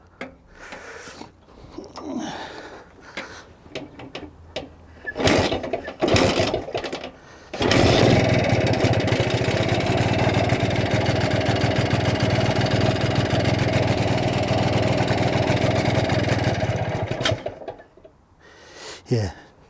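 A BSA Bantam motorcycle being tuned and timed coughs through a few short bursts, then catches and runs for about ten seconds with a rapid, buzzing two-stroke idle before cutting out; a little talk comes before.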